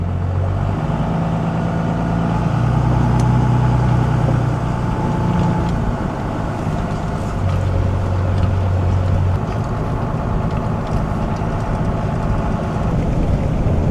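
A 30-year-old truck pulls away hauling heavy equipment on a rental trailer with surge brakes, its engine droning steadily and loudly throughout, with low rumbling tones shifting as it drives off.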